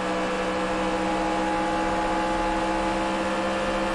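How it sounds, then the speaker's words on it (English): The race car engine in NASCAR Racing 2003 on the California track roars in a constant, loud, buzzing drone that holds steady at high revs throughout, with no voices over it. "Listen to that engine roar."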